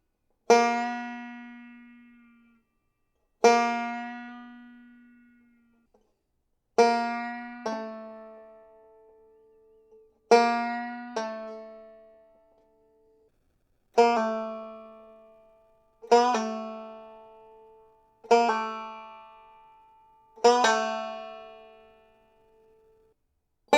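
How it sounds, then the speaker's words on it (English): Plucked banjo notes ring out one at a time, each sharply attacked and then decaying, with quick follow-up notes where fingers pull off and strings bend, unaccompanied. "let's talk a little bit more about bending the string for pull-offs"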